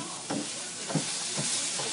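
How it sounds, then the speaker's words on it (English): Buffalo chicken wings frying in hot sauce in a pan, a soft continuous sizzle broken by several stirring scrapes at a slow irregular pace, no speech. "So we're just going to fry these up."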